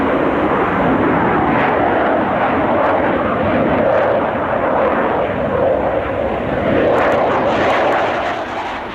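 A Panavia Tornado fighter jet flies past with a loud, continuous roaring engine rush that holds steady and swells slightly toward the end.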